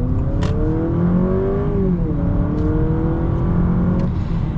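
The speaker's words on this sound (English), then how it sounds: "Now we've got it in the sport mode here, and you guys will see the acceleration." A 2024 Honda Accord Hybrid in sport mode accelerates hard, its engine and motor note climbing steadily in pitch, dipping once as it shifts, then rising again, loud and close throughout with no talking.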